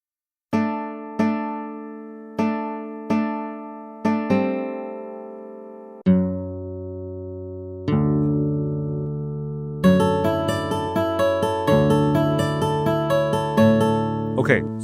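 Plucked acoustic guitar notes sequenced as a MIDI melody in a beginner-friendly DAW, starting with evenly spaced single notes, then longer ringing tones, and building into a dense, busy run of layered notes near the end, all without any voices.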